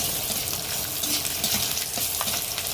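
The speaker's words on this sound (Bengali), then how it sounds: "এখন শুকনো মরিচটা ভেজে দেব" Dried chili peppers and whole garlic cloves fry in hot oil, a close, loud, continuous crackling sizzle with small bursts of popping throughout.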